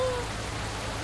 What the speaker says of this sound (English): Rain is loud.